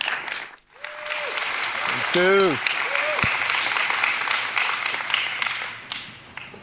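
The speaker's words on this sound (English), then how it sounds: "So big round of applause." An audience at a security research conference gives sustained applause as presenters take the stage, a dense wash of clapping with a few whistle-like tones and someone briefly speaking over it.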